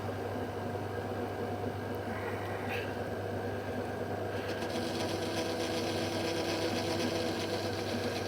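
A lathe with high-speed steel tooling takes a very light skim cut on a burned commutator, giving a steady mechanical whir and hum throughout with a faint rising hiss midway, continuous and close.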